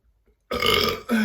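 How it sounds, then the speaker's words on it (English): A single loud, close burp erupts after a brief silence, guttural and drawn out, ending with a short second gulp. "end the video with a burp"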